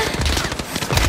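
Call of Duty: Modern Warfare gunfire crackles in a rapid burst of several close, sharp shots within about a second, dense and noisy.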